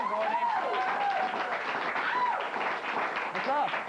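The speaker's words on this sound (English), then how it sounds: "Ladies and gentlemen, please give a nice round of applause to Gordy Persha." A late-night talk show studio audience applauds in a steady, full wash of clapping that lasts throughout, with whoops and voices rising above it.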